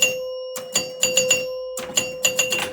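A 1977 Gottlieb Jacks Open wedgehead pinball machine rings out its score with a run of sharp bell chimes in uneven bursts over a steady electrical hum, close and loud, with no talking.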